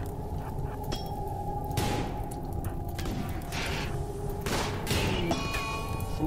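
Gunfire in the game RimWorld during a melee raid, with several loud bursts of shots over a constant low rumble of background game sound.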